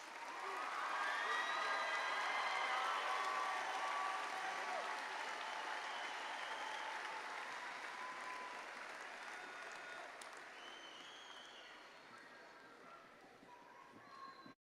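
Sustained applause from a large audience honoring graduates at an Angelo State University MBA graduation ceremony, a broad steady wash of clapping that gradually fades over about fifteen seconds.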